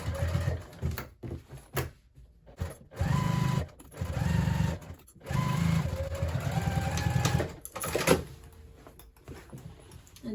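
A sewing machine stitches a half inch seam on a crossbody bag, running in steady whirring stretches that stop and restart several times, close and loud, with brief pauses and clicks between runs.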